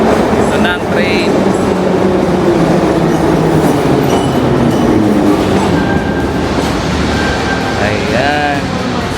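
A train pulling into a station in Tashkent, Uzbekistan, with a loud continuous rumble of wheels on rails and brief high squeals, heard close up.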